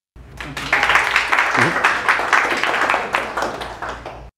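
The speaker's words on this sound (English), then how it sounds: "You can clap now." Audience at a business talk breaks into steady, dense clapping that starts abruptly, holds loud and even for about four seconds, then cuts off, with a voice briefly heard over it.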